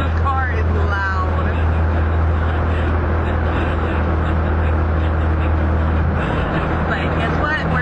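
Loud hearse engine echoing inside an underwater tunnel, a dense continuous rumble with a strong low drone that reverberates steadily, with some talk over it.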